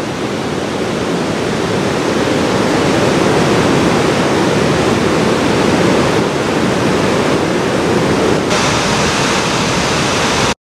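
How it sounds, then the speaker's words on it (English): A river spills over a small waterfall and down cascades in a canyon, making a loud, steady roar of rushing water that stays even throughout, close by, with no voices. "It pools again right here and drops off through another little falls and then down through some cascades."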